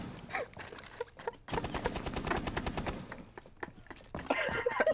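Gunfire in the video game Rainbow Six, a long rapid burst of shots in the middle with scattered single shots before and after, close and moderately loud.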